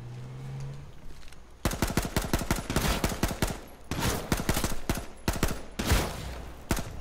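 Rapid bursts of gunfire in the H1Z1 battle royale game, dense volleys of sharp cracks in several clusters with brief pauses between, loud and close.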